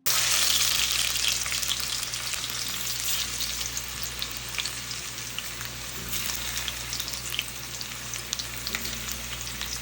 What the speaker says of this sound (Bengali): ডুমো ডুমো করে কিছু আলু কেটেছিলাম, সেটাকে সামান্য লবণ দিয়ে একটু ভেজে নেব